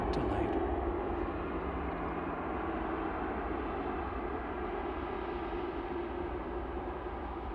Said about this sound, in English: That's EasyJet from Charles de Gaulle there